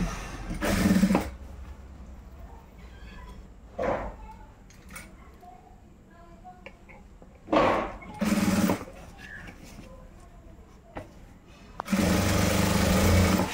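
A sewing machine stitches a bag made from a rice sack in several loud mechanical bursts separated by pauses, with a longer steady run at the end and some talking in between.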